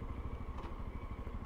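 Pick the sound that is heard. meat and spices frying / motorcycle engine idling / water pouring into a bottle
motorcycle engine idling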